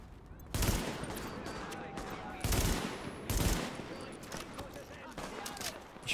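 Gunfire rattles through a multiplayer firefight in The Division beta, with several loud bursts and sustained shooting over continuous battle noise; someone talks throughout.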